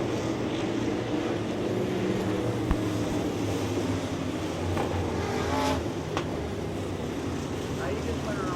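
Race cars circle a speedway track under caution, producing a continuous engine drone mixed with wind buffeting. A race announcer talks over the steady noise of the cars.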